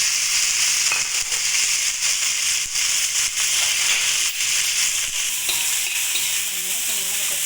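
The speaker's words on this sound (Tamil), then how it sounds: "எல்லாத்தையும் ஒன்றா போட்டு கொஞ்சம் நேரம் வதக்கி விடுறாங்க" Ginger and tamarind mix sautéed together in a pan, sizzling loudly up close with repeated scraping stirs of a spatula marking an uneven rhythm, and no one talking.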